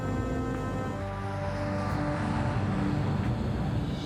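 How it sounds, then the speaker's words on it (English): A Swissair airliner takes off from the runway, its engines a steady, loud, broadband roar with faint whining tones that holds evenly throughout, with no voices. "Swissair Flight 111 lifts off the runway and makes her way northeast towards the open Atlantic"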